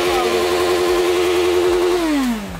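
A Honda CB1000 motorcycle engine revs hard, a loud, close, sustained roar that holds high and then drops away as the throttle closes.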